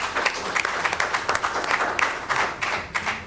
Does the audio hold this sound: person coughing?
no